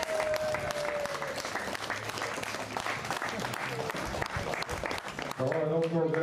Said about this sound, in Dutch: De podium mogen we een daverend applaus